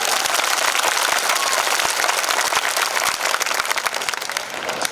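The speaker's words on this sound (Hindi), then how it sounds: "ऐसी क्या ताली बजा रहे हो यार?" A large crowd at a Hindu rally claps hard and steadily, a dense wall of hand claps that tapers off slightly toward the end.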